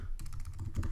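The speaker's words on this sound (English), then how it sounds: "while I'm typing here" Quick, close clatter of keys being typed on a computer keyboard, a brisk run of taps with no talking.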